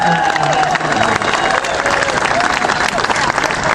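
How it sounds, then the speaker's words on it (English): A crowd at an outdoor awards ceremony in Pittsboro applauds the state police, with dense sustained clapping and some cheering continuing throughout, voices faintly mixed in. "How about a round of applause for all the state police who are here in Pittsboro?"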